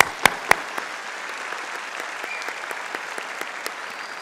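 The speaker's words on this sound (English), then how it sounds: "Let's give those graduates another round of applause." A ceremony crowd applauds graduates at an AHS/GED graduation in November 2012, with steady mid-level clapping and a few sharp, close claps standing out near the start.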